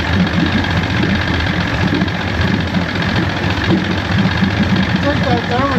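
A 1973 Johnson 65hp outboard motor runs steadily at a low idle with a dense, continuous rumble, loud and close throughout, with no speech over it.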